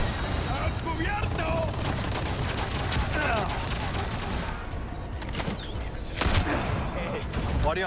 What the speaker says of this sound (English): There's someone shooting that gun.